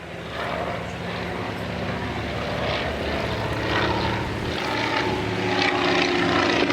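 A vintage World War I era airplane's propeller engine drones steadily at a fair distance, a continuous buzzing hum that slowly grows louder over several seconds, heard alone without talk.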